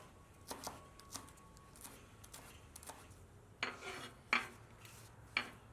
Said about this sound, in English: So I'm just gonna cut these in like half rounds.